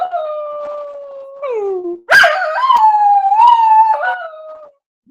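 A dog howls up close in long, wavering tones, sliding down and rising again in several drawn-out cries during a severe weather live broadcast with a tornado warning.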